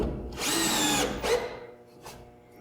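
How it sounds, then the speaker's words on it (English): A power drill countersinks a hole in a cedar hot tub seat support, giving one loud, steady whir of about half a second, a shorter burst after it and a faint final blip, close up and with no talking. "now he's going to countersink his hole"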